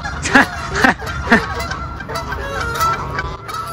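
Goose-like honking from a bird during a fight between birds in mating season, beside water in urban Boston; three loud honks in steady succession, then quieter calls over outdoor background noise.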